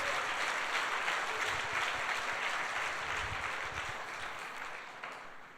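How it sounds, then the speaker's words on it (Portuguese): A church congregation at a prophetic worship service applauds, a broad wash of clapping that holds steady and then gradually fades toward the end. "dê um aplauso ao Senhor Jesus."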